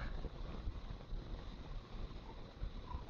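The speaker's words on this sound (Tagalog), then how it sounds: "Lakas ng hangin." Strong wind roars and buffets against the microphone in a continuous low rumble, with no talking, at a tourist spot in Nueva Vizcaya, Philippines.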